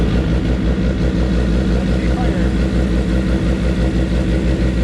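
A Suzuki GSX-R750 motorcycle engine runs at a steady idle, a loud close-up low rumble that goes on evenly the whole time.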